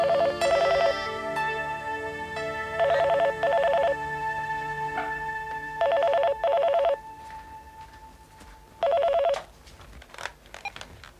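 A telephone rings in short repeated bursts, four double rings spaced evenly apart, with a quiet pause between each.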